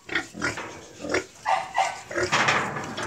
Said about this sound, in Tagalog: Enjoy na naman ang mga baboy.